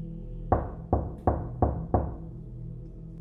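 Five sudden knocks on a door as a sound effect in an animated horror story, evenly spaced, loud and close, each thud ringing briefly before the next.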